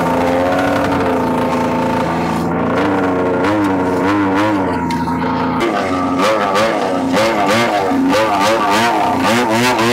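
A rotary-powered 1973 Evinrude Trailmaster snowmobile engine of 35 horsepower runs loud and close, a buzzing idle that rises and falls through repeated revs, with no voices.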